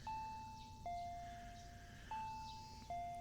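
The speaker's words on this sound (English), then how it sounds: "I heard the doorbell ringing." A soft electronic doorbell chime from a Higurashi visual novel game rings repeatedly, a few clear tones spaced about a second apart over a quiet background hum.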